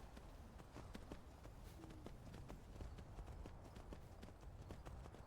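Horse hooves clip-clopping in a steady trotting rhythm while riding along a path in the video game Skyrim, quiet and continuous over a low ambient game background, with no talking.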